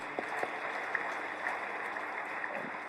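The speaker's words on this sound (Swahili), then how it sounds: "Naomba makofi mengi sana" Audience applause at a ceremony opening the Mwalimu Nyerere Foundation building, a steady, fairly faint wash of many hands clapping heard from a distance, with a few sharper claps near the start.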